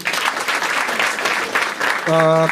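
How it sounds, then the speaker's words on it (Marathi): An audience at a Marathi stand-up comedy show claps together in a burst of steady applause, ending as a sustained tonal sound begins. "चला एकदा टाळ्या वाजायच्यासाठी"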